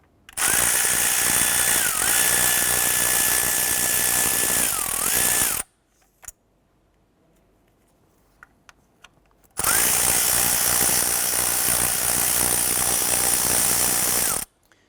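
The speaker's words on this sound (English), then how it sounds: "Using our 10mm socket, we're going to go ahead and remove the bolts holding the ignition coil to the valve cover." A 10mm socket on a ratchet tool removes ignition coil bolts from the valve cover of a 2011–2018 Ram 1500: two loud, sustained whirring bursts, close up, separated by a few seconds of near silence.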